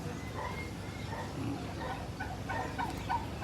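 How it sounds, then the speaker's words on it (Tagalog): Turkeys gobble in scattered bursts against steady outdoor background noise, with chickens faintly present. "Kaya maraming pabo doon si Obong."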